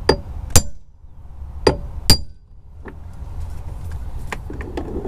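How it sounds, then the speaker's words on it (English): Impact screwdriver struck on a Phillips head screw while tightening during a car headliner removal and sunroof leak repair: four sharp metallic hammer blows land early and close, followed by fainter clinks over a low background rumble. "he's gonna try to tighten it first with the impact screwdriver"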